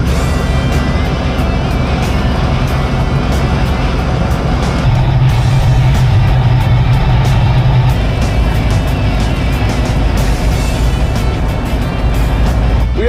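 An old wrecker tow truck drives through snow, its engine giving a loud, steady rumble with road and wind noise from start to finish.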